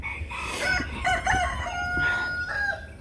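A rooster named Roo crows in a henhouse with a drawn-out, wavering call, fairly close and clear, with a second shorter crow following and faint farmyard background noise.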